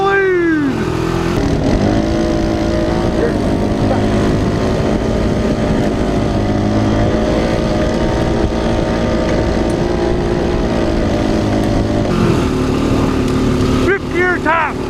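Several Honda Foreman 500 ATV engines race together, a loud, steady multi-engine roar with rising and falling revs and gear shifts, close by and continuous, with excited voices shouting over it.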